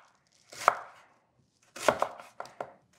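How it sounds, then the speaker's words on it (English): A knife roughly chops onion on a board for falafel in a few distinct bursts: one heavy chop, a pause, then a quick cluster of three or four sharper cuts, close and fairly loud with no talk. "So just do light chopping."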